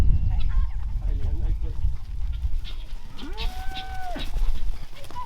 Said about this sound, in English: Look at the calves having some fun.